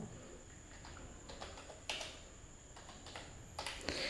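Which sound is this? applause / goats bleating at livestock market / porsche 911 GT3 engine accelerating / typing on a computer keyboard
typing on a computer keyboard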